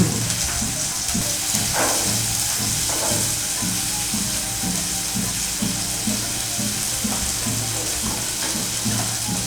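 Green chilies and onion fry in a pan for a sprouts egg bhurji, a steady close sizzle with rhythmic scraping and stirring throughout.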